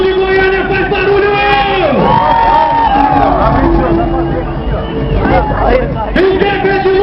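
A crowd at the Goiânia drag racing track cheers and shouts loudly throughout, with an announcer's voice over the roar.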